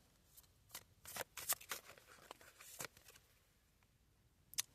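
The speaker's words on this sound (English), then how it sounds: "I will shuffle 2 more times, and if no cards come out, then I will clear this." A deck of reading cards is shuffled by hand, quiet close-up riffles and soft card-on-card slaps in irregular bursts, with no talking.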